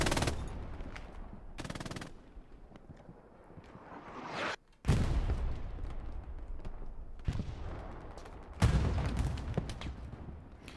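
Machine gun fire in the World War II shooter Hell Let Loose, set at D-Day +4 Carentan, comes as several loud sustained bursts, some very close and harsh and others more distant, separated by brief pauses.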